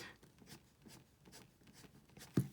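A fine-nib Kaweco Lilliput fountain pen scratches across paper in short, faint strokes, a soft rhythmic scritching heard up close.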